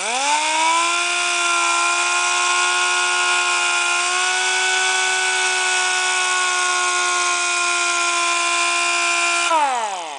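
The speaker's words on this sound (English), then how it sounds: "So I go slow, and I'm just basically sanding the area with a different pattern now." An electric buffer sanding and polishing stainless steel trim whines with a steady, high-pitched motor tone that holds nearly constant, dipping slightly midway, then winds down at the end.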